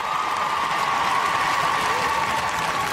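Crowd at Crufts 2018 dog agility team final, a steady broad wash of clapping and cheering throughout, with a sustained tone and voices running beneath.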